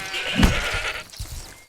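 A sheep bleats in a fantasy video game, one short, close, wavering bleat near the start, followed by quieter game ambience and a soft rustle, with no speech.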